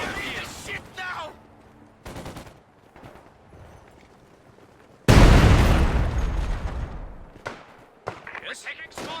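Small arms fire in the video game Company of Heroes 2: bursts of crackling gunfire and a loud booming blast midway, mixed with battle noise and in-game voices.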